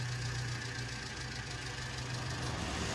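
An Ursus tractor engine idles in Farming Simulator 19, giving a steady, low, even rumble that runs quietly and unbroken with no one talking.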